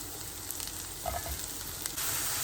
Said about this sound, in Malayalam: അപ്പോൾ ഗാർലിക്ക് ഒന്ന് കുക്കായി കളർ ചേഞ്ച് ഒക്കെ വന്നാൽ നമ്മുടെ മഷ്റൂം അതിലേക്ക് ഇട്ട് കൊടുക്കുക